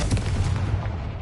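A Confringo fire spell goes off in Hogwarts Legacy as a loud, booming blast with a rumbling tail that lasts about a second and is heard on its own.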